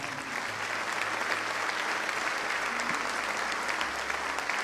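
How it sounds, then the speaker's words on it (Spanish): Church congregation applauding during a Spanish-language service, a steady wash of many hands clapping at moderate volume, continuous throughout with faint voices underneath. "Den un aplauso al Señor."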